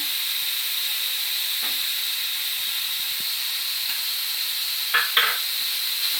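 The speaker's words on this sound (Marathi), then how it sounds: "आता ह्याच घी मध्ये मी गाजरचा हा कीस घालून व्यवस्थित परतून घेणार आहे" Grated carrot sautés in ghee over a low flame for carrot halwa, giving a steady, even sizzling hiss with a couple of quick stirring clicks near the end.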